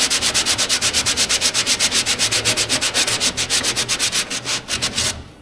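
Hand sanding of body filler on a truck cab, a rapid, even back-and-forth rasp of paper against the hardened filler, with strokes repeating in a steady rhythm close up and no talking.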